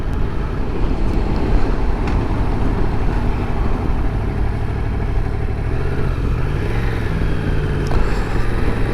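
A 2022 Yamaha MT-10 motorcycle on the move, a loud, constant engine drone under heavy wind rush, with a slight pitch rise near the end as it shifts or accelerates.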